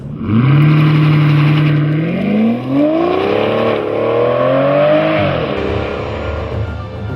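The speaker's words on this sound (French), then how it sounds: "pour ceux qui veulent plus de sportivité, cette Vanquish dispose même d'un launch control" An Aston Martin Vanquish V12 launches under launch control, its engine roaring loud and close as it revs from a steady hold and climbs hard through the gears, pitch rising in long sweeps before easing off.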